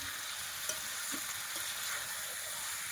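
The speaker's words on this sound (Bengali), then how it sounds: "এখন একটু নেড়ে নেবো মাংসটা।" Meat frying in a pan for a curry sizzles steadily while a utensil stirs it with soft scraping taps, close and fairly quiet, with no talk.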